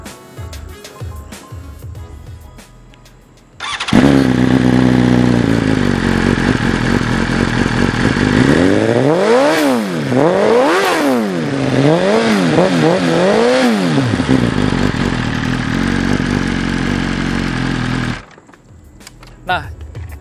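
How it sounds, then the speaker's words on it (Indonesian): A four-cylinder DOHC 1000cc motorcycle with an Akrapovic exhaust revs hard at close range. It climbs and falls through several sharp throttle blips, then settles to a steady high idle before cutting off. "Dan untuk suaranya, coba kita dengerin. 4 silinder DOHC"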